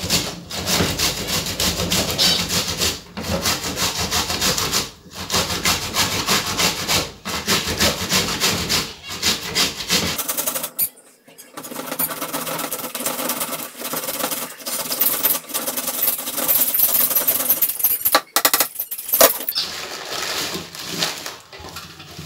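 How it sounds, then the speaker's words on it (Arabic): A tomato is grated by hand in a kitchen: continuous close rasping with brief pauses, loud and steady for about ten seconds, then a rougher, more irregular stretch of grating. "غادي نحكو مطيشه"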